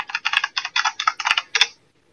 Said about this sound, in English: I'm sorry, listeners, for you being able to hear my typing.